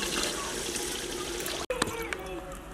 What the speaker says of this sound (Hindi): माशाल्लाह से मैंने ढेर सारा पानी शामिल कर लिया है।